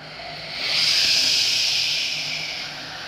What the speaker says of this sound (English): Normally that's the sound of sun plus cosmic background continuum.